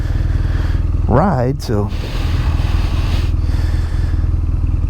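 A 2019 BMW R nineT scrambler motorcycle engine idles steadily up close with an even low throb, while someone briefly speaks over it midway.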